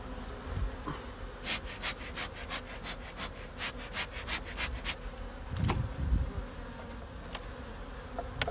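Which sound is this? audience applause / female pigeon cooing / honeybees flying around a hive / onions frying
honeybees flying around a hive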